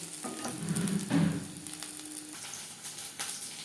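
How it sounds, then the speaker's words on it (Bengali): Prawn and vegetable pakoras frying in hot oil give a steady, dense sizzle and bubbling, with brief louder crackles near the start. "প্রত্যেক ব্যাচের পাকোড়া একইভাবে ভেজে নেব।"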